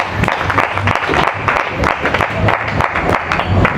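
A church congregation at a Sunday service applauds to acclaim the Lord, loud rhythmic clapping from many hands close by, with some voices mixed in.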